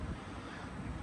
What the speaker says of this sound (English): It is windy. It is very windy at the minute.